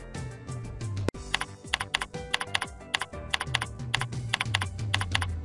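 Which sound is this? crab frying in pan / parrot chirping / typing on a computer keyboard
typing on a computer keyboard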